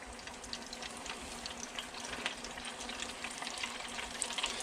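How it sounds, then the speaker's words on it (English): Breaded sail cat fish frying in hot oil, a steady close, dense sizzle and crackle that holds evenly throughout with no talking. "So now we are sitting here frying our fish."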